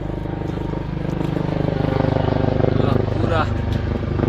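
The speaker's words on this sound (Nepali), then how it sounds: "अनि हेलिकप्टर पनि पुरै टुर गर्दैछ" A helicopter flies over a mountain trail on Bukhansan, its rotor beating in a steady low rhythmic thudding throughout while people talk over it.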